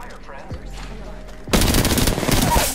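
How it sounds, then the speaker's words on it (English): Sustained automatic gunfire in Apex Legends erupts midway and rattles on rapidly and loudly in a continuous burst, preceded by quieter game sounds and faint voice-like chatter. "Opening fire on the enemy."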